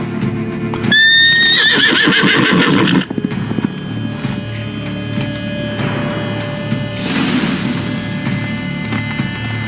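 Roach, a horse in The Witcher 3: Wild Hunt, whinnies loudly and close by, with a shrill, wavering neigh. Hoof clip-clops and game background sounds continue underneath.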